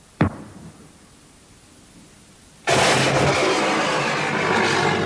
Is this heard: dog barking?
no